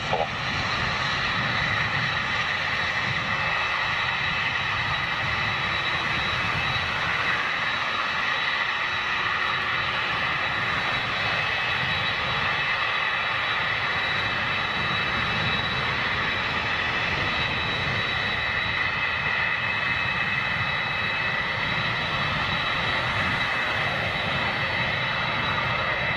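A Cathay Pacific jet takes off from runway 08 right, its engines roaring steadily and loudly throughout with a constant high whine over the deep rumble, heard from a distance.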